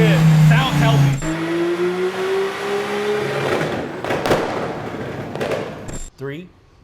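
A Lamborghini Huracan STO revs hard on a dyno: a loud, close engine note climbs steadily in pitch, breaks into rough popping bursts, then cuts off sharply before a short final blip.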